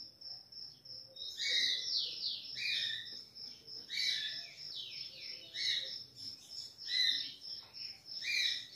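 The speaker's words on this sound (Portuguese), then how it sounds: "Ó, deu um cantadinho baixinho aí, ó." Soft high chirps and warbling phrases from a five-month-old ultramarine grosbeak chick set out in the sun, repeated in short bursts over several seconds with no talking.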